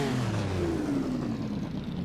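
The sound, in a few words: 1948 racing car engine revving in video game Assetto Corsa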